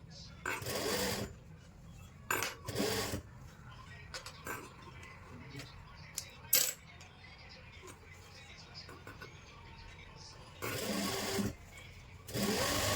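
Sewing machine stitching the sleeves of a lined kurti, running in several short loud bursts separated by pauses, with quieter handling noises and a voice between runs.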